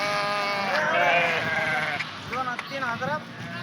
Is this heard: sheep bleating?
yes